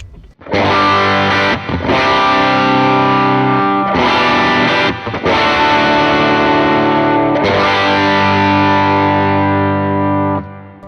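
Electric guitar on the bridge pickup through an Ibanez TS808 overdrive pedal rings out in loud, sustained distorted chords, bright and biting, with a few short pauses between strummed phrases.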